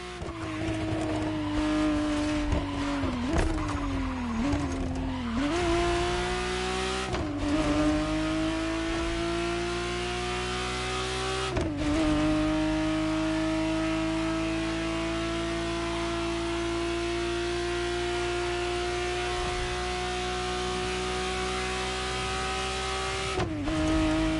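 A 1991 Ferrari Testarossa in the racing game The Crew Motorfest revs hard and shifts through gears, its engine tone climbing and dropping at each change before holding a long, steady, loud drone, with no talk over it.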